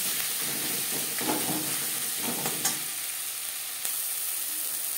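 Spices with red chilli powder are stirred in hot oil in a pan on low to medium flame for a Chela fish curry, a constant loud sizzle with soft spatula scrapes through the middle.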